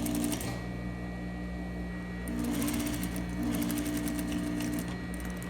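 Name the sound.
sewing machine sewing bodice facing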